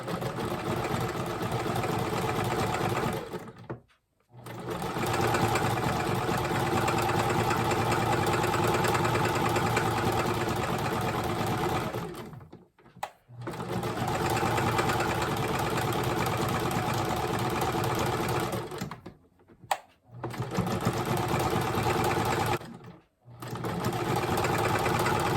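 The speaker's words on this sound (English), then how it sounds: "I'm going to change my machine to a zigzag stitch so I can seal off both the top and the bottom fabrics." Sewing machine running a zigzag stitch through layered fabric for a paper-pieced cat ornament, a loud steady mechanical hum in long bursts with four brief pauses between runs.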